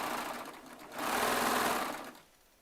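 A Baby Lock Triumph serger runs in a short close burst, a fast whirring stitch hum that rises, holds for about a second and then stops.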